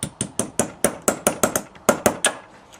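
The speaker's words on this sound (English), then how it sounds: "Then you take a light hammer" Light, sharp metallic taps from a small hammer knocking out a carburetor needle jet, about a dozen strikes in a steady rhythm, close and clear with no talking.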